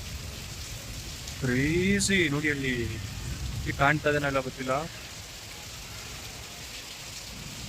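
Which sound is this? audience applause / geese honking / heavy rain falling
heavy rain falling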